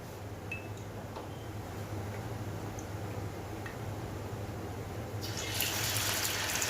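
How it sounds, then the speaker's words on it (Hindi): Mutton liver hits hot oil on a tawa. A faint steady sizzle builds, then swells into a louder, brighter hiss near the end. "एक तवे पर ऐड करेंगे एक प्याली ऑयल और फिर मैं इसमें ऐड करूंगी कलेजी"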